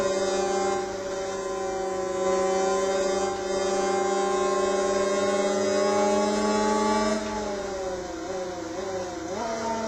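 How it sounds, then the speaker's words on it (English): A 600cc motorbike engine in the racing game Riding Spirits 2, a steady high whining drone held at speed that dips and climbs near the end as the revs shift, with no talking. "this bike is not the most aggressive 600cc bike I could have picked"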